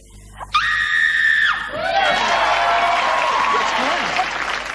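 A sustained, high scream rings out in a television comedy panel show studio, then gives way to a long wash of audience cheering and applause.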